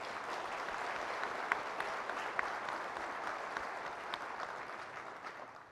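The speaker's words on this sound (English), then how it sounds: "Let's give him another round of applause." An audience at a business association's annual meeting general session gives a sustained round of applause, a dense even clapping that holds steady for several seconds with no talking over it.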